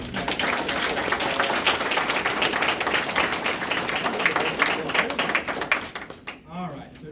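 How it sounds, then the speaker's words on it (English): Audience at a naturalization ceremony applauding veterans, a sustained wash of many hands clapping through a large hall that fades out near the end, with a voice briefly heard as it dies down. "let's give a round of applause for our veterans"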